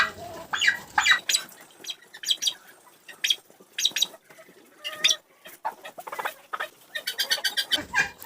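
Young turkeys mating in a poultry yard, with a turkey hen giving repeated sharp calls and clucks in irregular bursts, close and fairly loud with quieter pauses between.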